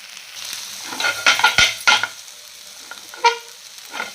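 Mixed vegetables and cashews sautéing in a pan, with soft sizzling broken by a few clattering stirs and scrapes of a spoon against the metal, close and fairly quiet.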